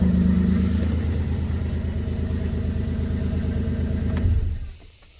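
A 2000 Ford Ranger pickup truck idles with a steady, close, low rumbling drone that runs evenly for about four seconds before the engine shuts off and the sound dies away to near silence.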